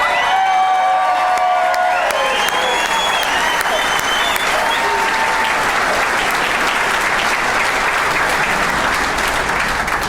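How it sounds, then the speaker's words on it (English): Loud, continuous clapping from a ring ceremony audience, with whoops and shouted cheers, including children's voices, riding over the dense applause for the full stretch. "I think they deserve a little more applause."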